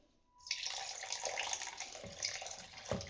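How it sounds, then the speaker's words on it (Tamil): Water poured into a vessel while making gulab jamun sugar syrup in a home kitchen, a steady splashing pour that begins after a brief quiet start and continues close by, with a few louder surges. "தண்ணி ஊத்த."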